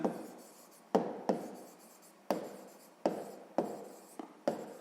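Pen strokes scratching across paper during a sixth-grade maths exercise, a series of about seven sharp onsets each trailing off into a rough scratch, close and fairly quiet with no voices.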